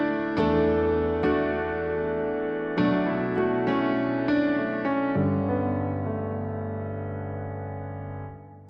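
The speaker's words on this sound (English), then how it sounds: "I like to stack some pianos sometimes." Layered pianos, a grand stacked with an upright, playing sustained chords with several struck attacks that ring out and slowly decay, clear and fairly soft with no voices.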